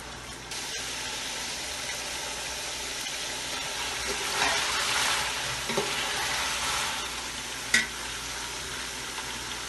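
Chicken fries with yogurt in a pot for yakhni biryani, giving a steady broad sizzle throughout with an occasional stir or clink and no talk.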